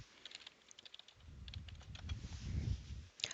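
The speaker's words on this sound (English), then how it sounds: "Typing the word resilient." Quiet, quick clicks of keys being typed on a computer keyboard, with a soft rumbling thump toward the end.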